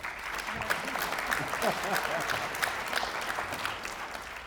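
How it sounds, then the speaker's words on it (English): Audience applause at a circuit court judge's investiture in Memphis, a steady wash of clapping from a crowd, fairly close, with some murmured voices mixed in. "Let's give her a round of applause"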